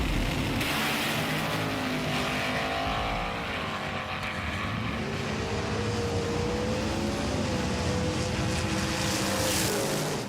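Buzzing motor whine of small die-cast toy cars racing along a track, a steady loud drone with rising and falling pitch throughout.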